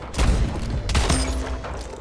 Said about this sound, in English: Shotguns are crazy